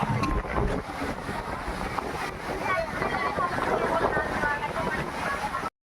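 Rough, stormy sea waves at Dwarka surge and wash near the shore in a loud, continuous rushing roar, with wind buffeting the microphone and a voice talking over it.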